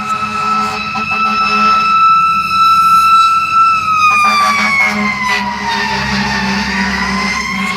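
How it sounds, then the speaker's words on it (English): A fire truck siren wails loudly and close, its pitch sliding downward as it passes, over the rumble of highway traffic. "got to see that fire truck go by"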